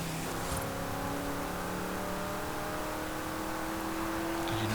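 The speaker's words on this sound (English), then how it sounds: "the engine sounds pretty good. Not the best sounding V8 ever, but it's still a pretty good sounding one regardless" A 1992 Mercedes-Benz 500 E with its V8 in Forza Horizon 5 revs continuously, a loud, dense engine roar whose tone rises steadily, with no voices.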